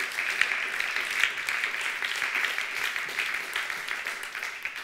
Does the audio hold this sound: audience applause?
yes